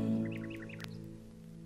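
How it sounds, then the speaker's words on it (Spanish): Birdsong from an old LP sound effect, heard as a few short, faint chirps over a steady humming drone, with a brief higher note partway through and no talking. "Solo se oye cantar a los pájaros y a las cigarras."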